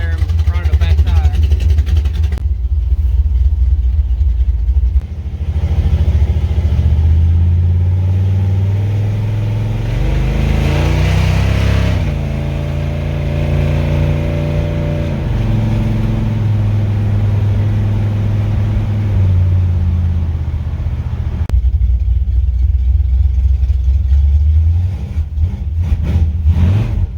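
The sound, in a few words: Chevrolet C10 truck engine running with junkyard carburetor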